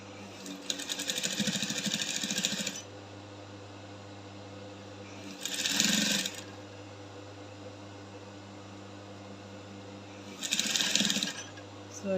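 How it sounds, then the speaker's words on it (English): A sewing machine top stitches a fabric strip for a corset blouse, running in three separate bursts of rapid whirring stitches close by, with pauses and a steady background hum between them. "I'll keep top stitching till I get to the end of it"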